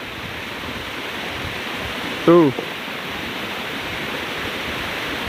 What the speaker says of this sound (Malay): Ada batang air gadang di siku sana ya.